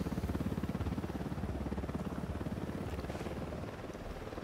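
A helicopter patrol in the video game Ghost Recon Wildlands passes overhead, a loud, steady rotor thump with a chopping rhythm that holds throughout and eases slightly near the end.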